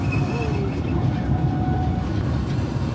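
A steady, loud rumble of a moving train at the Jelly Belly factory in California fills the clip, with a faint metallic squeal rising briefly over the continuous rolling noise.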